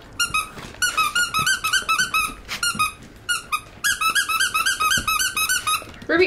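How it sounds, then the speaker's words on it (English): A dog chews a squeaky toy horse with rope inside, producing rapid bursts of loud, high-pitched squeaks in quick irregular clusters with short gaps, close up and alone. "she loves squeaky toys"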